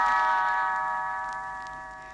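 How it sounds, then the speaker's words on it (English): Tinker Bell's little bells ring a bright, sustained chime as a page-turn signal on a 1971 Disneyland read-along record, a single clear tone that rings alone and slowly fades over about two seconds. "You will know it is time to turn the page when Tinker Bell rings her little bells like this."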